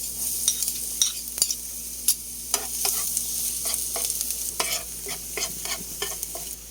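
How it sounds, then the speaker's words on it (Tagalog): Garlic sizzles in heating cooking oil in a pan for a tuna flakes dish, a steady close hiss broken by repeated scraping stirs and clacks of a utensil against the pan. "Habang nagpapainit tayo ng mantika dyan. Siyempre, unahin natin magpag-isa yung ating bawang."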